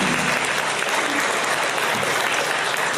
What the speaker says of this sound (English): And the crowd goes nuts.